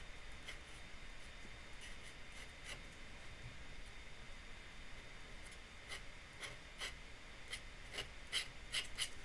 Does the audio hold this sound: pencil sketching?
yes